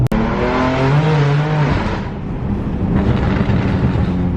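A tuned BMW M3 engine making over 450 wheel horsepower revs hard and climbs in pitch through the gears, loud and close, with a brief shift break midway.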